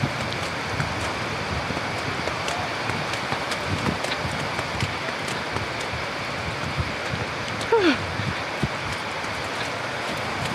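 Steady rain and wind sweep over a football pitch at a military-zone stadium during a match, a constant hiss of falling rain with a brief whistle-like sound in the middle.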